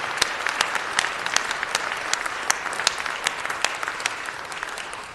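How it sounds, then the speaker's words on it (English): A round of applause for former councilman Nate Holden at a city council meeting, steady crisp clapping from a moderate crowd, somewhat distant and without talk. "Give him a round of applause."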